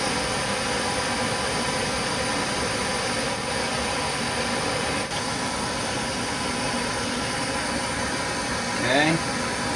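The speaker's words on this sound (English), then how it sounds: "This is a Harbor Freight torch, and it really goes through a lot of gas" A Harbor Freight gas torch burns with a steady, loud broadband roar that holds unbroken throughout, with a brief extra flare of sound near the end.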